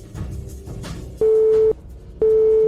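A phone line plays a steady electronic tone in two long, loud beeps separated by a short gap, after an unavailable-number message.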